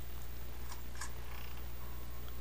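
A cat purring in The Witch's House video game, a steady low rumbling purr with a couple of brief chimes over it.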